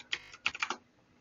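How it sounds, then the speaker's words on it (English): Quick keystrokes on a computer keyboard: a short burst of about five or six crisp, close taps in under a second, then quiet. "I'm just typing it in."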